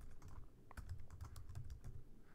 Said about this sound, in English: Typing is bad.